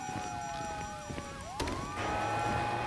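A wailing police-style siren in a video game shooter, with the tone sweeping up and down and rising steadily, with a sharp impact midway and game ambience underneath.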